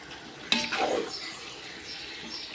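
Chicken with ginger and garlic sizzling in a hot pan for dum biryani, a sharp utensil clack followed by a burst of frying hiss that settles into a steady, moderate sizzle.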